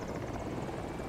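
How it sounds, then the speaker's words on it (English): A Little Bird helicopter in the video game Battlefield 2042 gives a faint, steady rotor whir with a rapid pulsing beat, heard alone for about a second. "Did your chopper just go down?"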